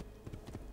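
A horse gallops briefly in Assassin's Creed II, a short quick run of soft clip-clopping hoofbeats, faint and alone.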